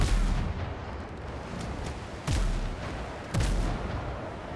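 Ship cannons fire in a naval battle video game, loud booming shots at the start and then two more after pauses of about a second, over a continuous rumbling background with no voices.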